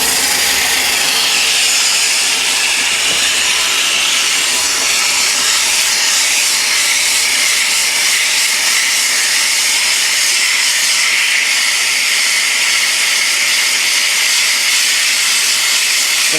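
Steady broadband hiss of sandpaper pressed against a long, thin wooden spindle turning on a wood lathe, with the motor's hum underneath, continuous and close for the whole stretch with no talking.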